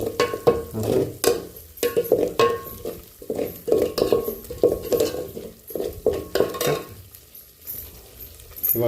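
Masala fries in oil for a rassi patudi kalvan, stirred in rhythmic, scraping bursts over a softer background sizzle, close and fairly loud.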